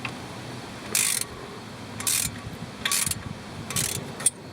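A ratchet on an extension turns out a 10mm bolt near an ABS sensor holder during upper ball joint replacement, giving four short bursts of clicking, each about a quarter second long and roughly a second apart, with quiet shop noise between.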